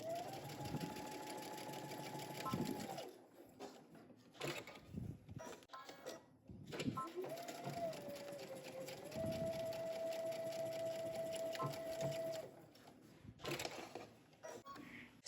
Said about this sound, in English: go ahead and stitch your shoulders of the facings together using 5/8 of an inch seam allowance